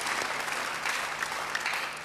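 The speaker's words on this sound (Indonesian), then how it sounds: "Beri tepuk tangan yang baik buat Dia" A church congregation applauds during a sermon, a steady, even wash of many hands clapping that continues unbroken and fairly close throughout.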